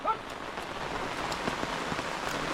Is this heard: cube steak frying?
no